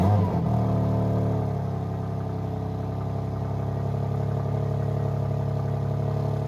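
A BMW M2 CS engine starts with a brief crank and flare, then settles into a steady, even idle that continues at a constant, fairly close level.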